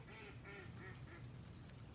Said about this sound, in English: Excuse the ducks in the background.